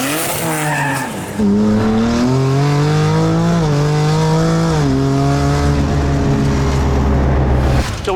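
A loud drag race car engine roars steadily at high revs during a pass, pitch climbing in stepped gear shifts, close by and continuous.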